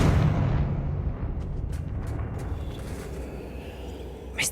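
A fiery Confringo spell blast in Hogwarts Legacy, a heavy booming burst that rolls off into a long rumbling decay, with a few faint crackles and a sharp hiss near the end.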